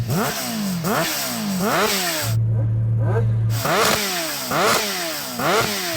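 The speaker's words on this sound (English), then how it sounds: "it's got a noisy exhaust on it, but what I really heard was the induction sound from that supercharger" Kawasaki H2R supercharged motorcycle revving hard in repeated rising sweeps, loud and close, with a noisy exhaust and induction whine; a steady idle drone sits between bursts near the middle.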